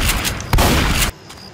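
Gunfire in Left 4 Dead 2 rings out in a loud, dense burst of overlapping shots with a heavier blast midway, then cuts off abruptly to a quieter background tail.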